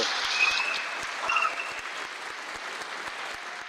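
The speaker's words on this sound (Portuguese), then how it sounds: "Eu tenho certeza que isso merece uma salva de palmas" Applause from an audience at a legal seminar, a steady dense wash of clapping throughout, fairly distant and even, with a few brief faint tones on top.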